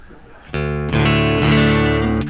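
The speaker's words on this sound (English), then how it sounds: "I'm playing through a Marshall amp and using the distortion pedal" An electric guitar through a distortion pedal and a Marshall amp plays sustained, heavily distorted chords, loud and close, with a thick buzzing tone.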